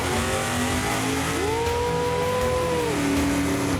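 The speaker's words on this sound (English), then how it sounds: "That don't sound like a 400 horsepower burnout." A drag-racing 1955 Chevy Bel Air gasser doing a burnout: a loud, steady engine roar with a rising then falling rev note in the middle, continuous throughout with no voices.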